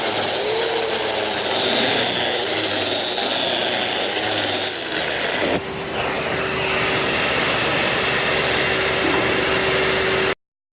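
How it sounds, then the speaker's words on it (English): A DeWALT DWV012 10-gallon dust extractor runs with a steady, loud whooshing roar, joined by a power tool whose whine shifts midway before the sound cuts off abruptly at the end; no talking. "plug your tool into the dust extractor"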